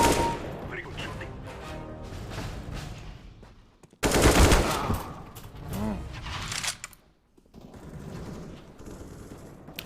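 Video game gunfire bursts out in several loud, dense volleys of rapid shots separated by brief lulls, with a heavy boom-like burst in the middle and softer crackling fire toward the end.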